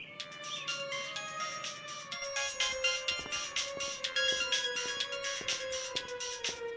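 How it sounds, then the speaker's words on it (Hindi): A phone ringtone plays a repeating electronic melody, fairly faint, with rhythmic tones looping steadily and no voices. "2 दिन बाद सागर के पास डॉक्टर का फोन आता है।"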